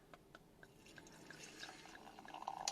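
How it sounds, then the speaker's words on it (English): Pet nat sparkling wine poured into a glass, a light trickling splash with faint drips and fizz that builds slightly toward the end, close and quiet. "Let's pour it out and try it."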